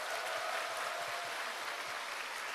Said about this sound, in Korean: 난 오토 판매사가 반드시 되겠다 하시는 분들은 큰 박수를 자신에게 보내시기 바랍니다